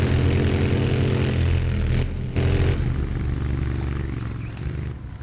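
A motorcycle engine drones loudly and steadily as it climbs stairs uphill in Tomb Raider Underworld on PS3, with a brief dip partway through before the strained revving resumes.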